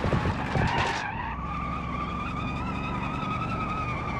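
A car in the BeamNG driving game skids with a loud, sustained tire squeal that starts amid engine noise and then settles into a steady screech.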